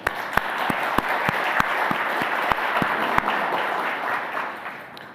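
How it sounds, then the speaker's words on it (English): A conference audience breaks into steady applause for its speakers, dense clapping filling the room with a few sharper individual claps standing out, fairly loud and close, tapering slightly toward the end. "I would like everybody to give a round of applause to our speakers."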